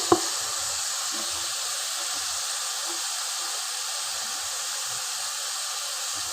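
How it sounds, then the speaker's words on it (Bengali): Spices with onion and garlic fry in a pan for a fish curry with flat bean seeds, giving a loud, steady, even sizzle after a single sharp knock at the start. "এটাকে আমি ভালো করে নেড়ে চেড়ে নিব বা ভেজে নিব।"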